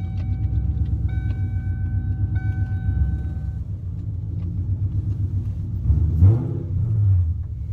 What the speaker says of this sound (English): The car is so freaking low and so loud.